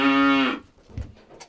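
A cow tied short to the manger in a barn lets out one loud, close moo lasting about half a second, followed by faint shuffling and barn noises.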